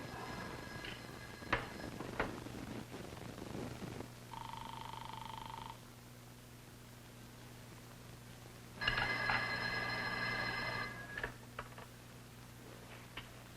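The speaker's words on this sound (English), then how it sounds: "Ruth, don't you hear the phone?" A telephone rings indoors in a 1962 film scene, with two electronic ring bursts separated by a pause, moderately loud over a low steady hum and with no talking.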